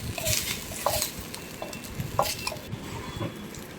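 Onion frying in a pan while being stirred, a steady sizzle with scraping and clinking of a spoon against the pan in irregular strokes, close up.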